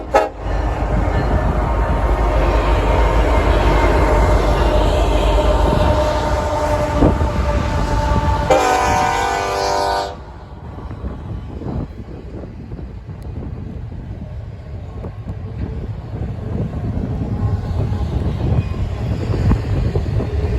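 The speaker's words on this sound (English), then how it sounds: "we retreated to Echo to watch this other train, in an intermodal, heading down the canyon" An intermodal freight train rumbles past loudly and steadily through a canyon, with a horn-like tonal blast partway through, then a softer continuing rumble of cars rolling by with wind noise.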